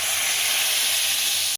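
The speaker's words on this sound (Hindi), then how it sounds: "तो इसका हम तड़का लगा रहे हैं।" Hot oil with cumin seeds poured for a tadka onto dal karahi, a loud bright sizzling hiss that holds steady for about a second and a half, then cuts off abruptly.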